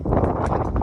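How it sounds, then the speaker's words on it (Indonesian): Strong wind buffets the microphone in a dense, low roar that stays loud and steady through the whole moment. "Wah, anginnya kan tuh guys."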